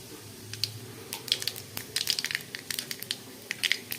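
Two roasted dried red chillies are crushed into powder by hand, giving a run of small, crisp crackling crunches up close, irregular and quick, with faint kitchen background.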